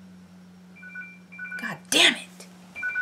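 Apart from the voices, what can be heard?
telephone ringing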